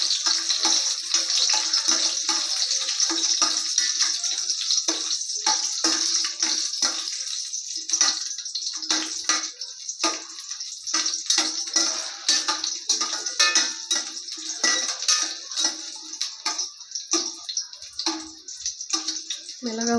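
Dried red chillies and garlic cloves fry in oil in a pan, giving a steady, close crackling sizzle that runs the whole time and thins out toward the end, with sharp spits and pops scattered throughout.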